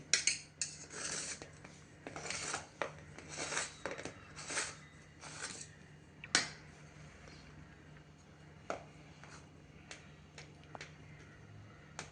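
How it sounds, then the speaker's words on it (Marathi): A knife cutting cooled, set bottle gourd vadi into pieces on a plate, heard as faint, irregular sharp taps and scrapes of metal against the dish, quiet and close, with gaps between cuts. "आपण त्याच्या वड्या कापून घेऊया"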